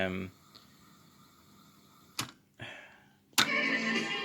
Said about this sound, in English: And the rewind, and I think the fast forward works